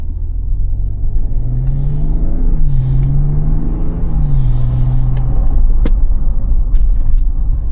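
A BMW G30 540i fitted with a MAD intake drives with the windows down, its engine droning loudly and steadily while the pitch rises and drops through gear changes under road rumble.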